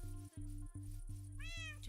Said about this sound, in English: Cats must be here to get rid of all the creepers